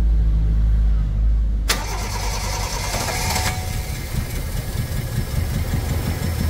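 Toyota 2E engine cranking, catching and settling into a running idle, the crank noise giving way to a steady mid-pitched engine hum with a rhythmic pulse, close and loud.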